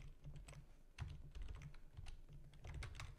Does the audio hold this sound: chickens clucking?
no